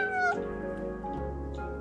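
A cartoon cat in a life-simulation video game gives a short, clear meow, a single close call over a steady game background.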